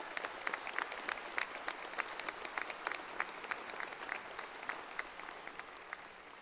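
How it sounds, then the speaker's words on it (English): A commencement audience at Angelo State University applauds staff, producing a dense, even patter of many hands clapping with crisp individual claps on top, sustained and moderately quiet, slightly distant, with no voices. "So let's give them a round of applause for their hard work."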